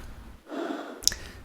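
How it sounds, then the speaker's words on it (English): A breathy inhale-exhale inside a spacesuit in the video game 7 Days a Skeptic, one soft drawn breath in the middle followed by a sharper gasp-like puff, close and fairly quiet. "can anybody guess what the breathing sound in the spacesuit is supposed to reference?"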